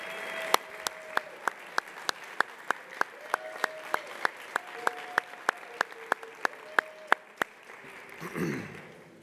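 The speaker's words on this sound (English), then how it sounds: "If we could please give Tiffany a big round of applause." A round of applause in a city council chamber, heard as a steady run of sharp, evenly spaced claps with a faint voice briefly underneath, fading into a short rustle at the end.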